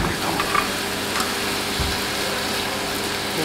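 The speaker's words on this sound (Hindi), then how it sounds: "मैं तो इसको मैं अच्छी तरह से मिक्स कर लेता हूँ" Garlic prawns frying with red chili and about a tablespoon of chili sauce, stirred in a pan as they sizzle with a steady, close hiss and faint scraping, no talking.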